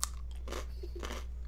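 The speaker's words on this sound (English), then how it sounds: "Can you hear me eating it? Very crunchy." Crunchy food chewed close to a microphone, two or three brittle crunching bursts in quick succession over a steady low hum.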